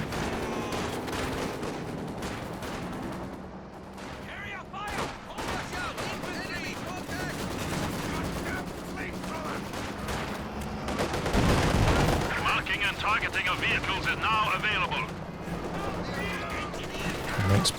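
Machine gun fire in a Company of Heroes 2 1v1 battle, sustained crackling bursts mixed with distant blasts and battle noise, running under a commentator's voice.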